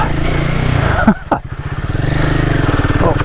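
A Royal Enfield Himalayan 450 motorcycle rides off-road. Its engine holds a close, pulsing drone that dips and recovers over rough ground, with brief voice exclamations.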